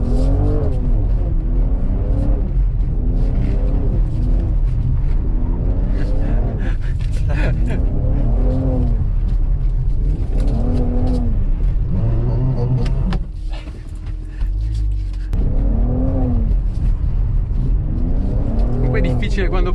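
Mercedes-AMG C43 driving on a race track, its engine droning loud and steady with repeated rises and falls in pitch as it revs through corners, and a brief lull near the end; people talk over it throughout.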